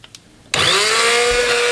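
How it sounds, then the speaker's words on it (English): After a brief quiet moment, an immersion blender whirs to life in a pot of potato and leek soup, starting abruptly and holding a loud, steady high motor whine with churning through the rest. "we're going to use the good old boat motor, this right here, to go ahead and blend all of this up"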